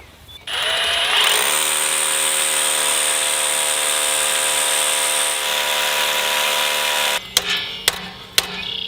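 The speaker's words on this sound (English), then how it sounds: "I'm gonna use, the Rigid Octane SDS Plus, and drill with this Bosch bit right here" A Ridgid Octane SDS Plus rotary hammer drill with a Bosch bit pounds into concrete block with a loud, steady rattling roar for several seconds, then cuts off, followed by a few sharp knocks.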